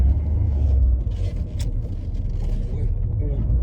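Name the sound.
32-year-old French hot hatch car driving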